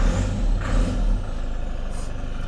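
A 2019 Isuzu D-Max pickup fitted with an aftermarket exhaust tip: a close, loud diesel rumble surges heavily for about a second, then settles into a steady, lower idle with no talking over it.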